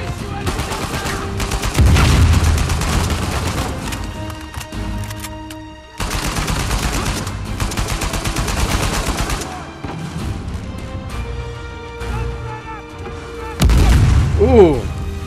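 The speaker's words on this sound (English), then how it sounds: "That was a grenade." A grenade explosion amid gunfire in Uncharted 4: loud booming blasts around the 2, 6 and 13.5 second marks, with dense, rattling gunfire filling the gaps in a heavy combat mix.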